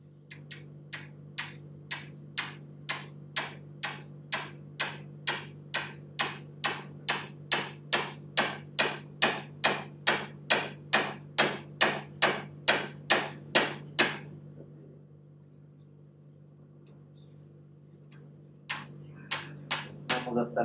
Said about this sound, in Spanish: Dame ahí un martillito.